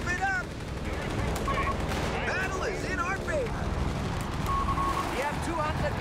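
Aircraft strafing gunfire in Company of Heroes 3, with rapid machine-gun bursts and artillery booms over a dense game battle soundscape, while a commentator talks over it.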